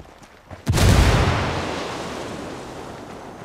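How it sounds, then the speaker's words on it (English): A mortar is blown up in Ghost Recon Wildlands, a single loud nearby explosion with a sharp onset and a long rumbling decay. "I'm gonna blow up this mortar"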